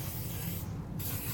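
Cooking spray hisses from a can into a muffin tin for whole wheat muffins, a close, loud continuous spray with a brief break, no voices.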